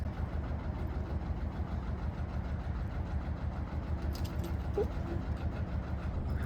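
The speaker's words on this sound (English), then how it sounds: "the noise of a Lister engine" A Lister diesel engine on a narrowboat chugs steadily nearby in a rhythmic low thump, fairly quiet, with faint sounds of people in the background.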